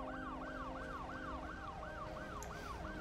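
Ambulance sirens in the city-building game Cities: Skylines II, a repeating wailing rise-and-fall pattern that cycles steadily and sounds faint and distant over a low background hum.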